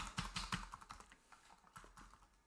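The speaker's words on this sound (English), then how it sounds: "So let's try keyboard navigation." Quiet, rapid computer keyboard key presses form a brisk irregular patter of light clicks with no talking.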